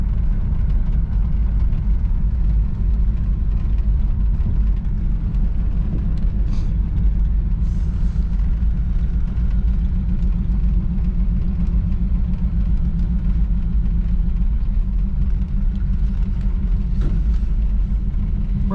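A 1963 Chevrolet Impala, running again after sitting 35 years, drives along a downhill road with a steady, loud, low engine rumble and continuous road noise.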